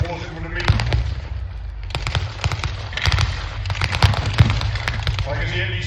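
MP40 submachine gun bursts crackle at a WWII battle re-enactment, sharp rapid shots in irregular clusters echoing outdoors alongside other distant firing, fairly loud and close.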